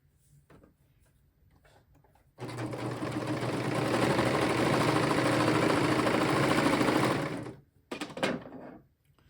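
A sewing machine stitches around a T-shirt neckline, running steadily for about five seconds with a loud, continuous whirring hum, then stopping, followed by a brief second burst of stitching and quiet handling noises.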